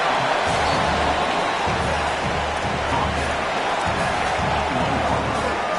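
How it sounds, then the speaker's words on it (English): Stadium crowd noise at a Trojans v Fresno State football game, a broad, continuous roar of many voices that holds steady throughout, a distant wash with no single voice standing out. "the noise from this crowd on 3rd and 4"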